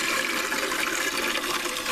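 A toilet flushes after its handle is lifted and released, with a loud, steady rush of draining water close by throughout.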